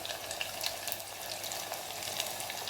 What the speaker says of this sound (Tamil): நல்லா வதங்கட்டும். இப்போ வெங்காயம் பூண்டு வதங்கிடுச்சு.